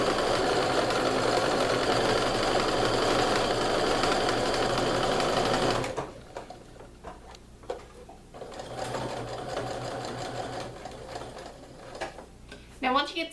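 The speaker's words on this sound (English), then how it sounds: "you just want to sew down those raw edges with a 1/4 inch seam" A sewing machine runs steadily while stitching a quarter-inch seam along the raw edges of a pinned fabric tube for a pillowcase, a loud continuous whir that stops abruptly partway, followed by quieter handling sounds and brief talk.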